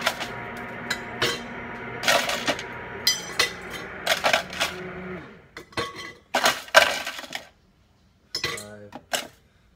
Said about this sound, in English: Six ice cubes should do it.